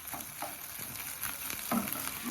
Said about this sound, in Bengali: তো এর জন্য ডিমটাকে আমি ভাজছি